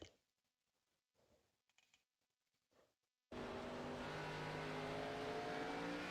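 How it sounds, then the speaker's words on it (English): A race car's engine roars suddenly at full volume from an in-car cockpit view during a four-wide race at the New Hampshire Magic Mile, over-revving after a few seconds of faint clicks and near silence. "And you will hear how the car takes off. You can just hear that over rev, and that's all it takes."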